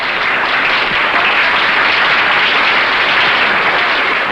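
Dense, steady audience applause fills a 1954 Liberace television show as a Spanish dancer takes her bow. It is loud and continuous throughout, with no voices over it.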